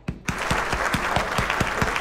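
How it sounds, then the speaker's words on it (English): A round of applause for a small YouTuber's 100-subscriber milestone, a dense, steady wash of clapping that starts abruptly and runs throughout, with regular low thumps pulsing beneath it. "Give me a round of applause, y'all."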